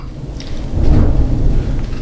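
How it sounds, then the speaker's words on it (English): Rolling thunder rumbles low and heavy over a steady rain, swelling to a loud peak partway through and then lingering as a continuous deep roar. "Hear the thunder?"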